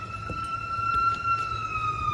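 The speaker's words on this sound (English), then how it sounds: "Oh, there's a siren. Yeah, there's a siren." A wailing siren holds a steady, rising tone in the distance, moderately loud, with faint background noise and no talking.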